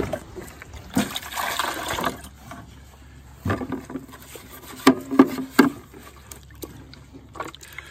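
Water is poured into the hopper of a Graco GX FF airless paint sprayer while it is flushed, giving a rushing splash followed by several sloshing, gurgling bursts and clunks at close range.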